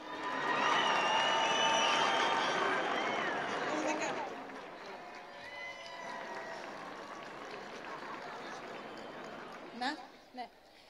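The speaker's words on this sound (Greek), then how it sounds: "νομίζω αξίζει άλλο ένα χειροκρότημα" Renewed applause at a New Year's Eve awards gathering in Athens's SNFCC for a 13-year-old first-place winner, a busy crowd clapping that dips midway, then trails off into a few scattered claps, with voices mixed in.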